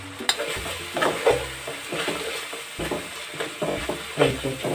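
Ground spices such as turmeric, red chilli and coriander powder sizzle in a pan while being stirred. Rhythmic scraping and clattering strokes sit over a moderate, continuous fry.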